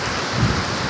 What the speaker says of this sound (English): We'll go out here in the rain just for a second.